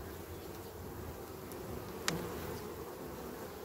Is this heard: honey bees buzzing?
yes